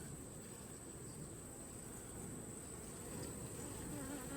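Dense, steady buzzing of a mass of honeybees around hives that are a little more aggressive than usual, a continuous close hum filling the whole stretch with no talking.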